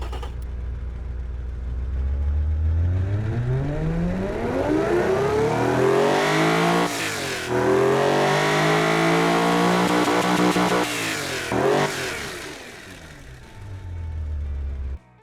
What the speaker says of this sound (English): So we have heard the V12 already, but this one is a smooth V12, not like a racing V12.